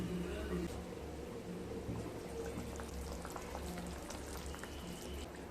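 Vegetable curry bubbling in a pot, a faint continuous simmering patter and gurgle held at an even low level throughout.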